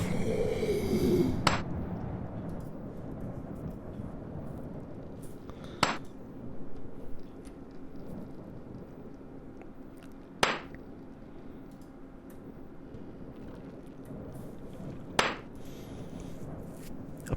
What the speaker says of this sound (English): Hitting a zombie sounds like this.